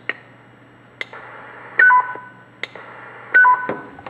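A Stabo XM4006E CB radio plays its roger bleep number 6: short electronic tone bursts with clicks, two repeated beep sequences separated by brief pauses, crisp and close with no talking.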